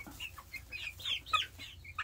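Backyard chickens cluck softly in their coop, with scattered short calls and a few sharper squawks over quiet background, no talk.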